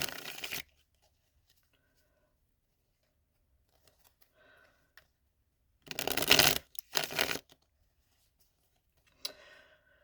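A Spirit Science tarot deck is shuffled by hand in close, quiet bursts: a short riffle at the start, then two louder flurries of shuffling in the middle, with faint card handling and a brief rustle near the end.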